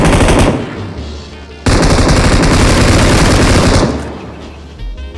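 Loud automatic gunfire rattles from the PUBG battle royale video game, with a sustained burst of rapid shots in the middle and echoing fire around it, close and harsh.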